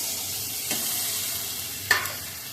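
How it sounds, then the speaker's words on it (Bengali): A spiced curry frying in a pan gives a steady sizzling hiss, broken by two short bursts as liquid goes in and a spoon clatters, with no speech. "এবার আমি ঝোলটা ছেড়ে দিই"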